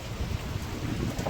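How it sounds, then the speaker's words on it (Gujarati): Heavy rain pours down during a Navratri night, a dense, steady hiss of falling water with low rumbling underneath and no voices. "જબરજસ્ત વરસાદ પડો"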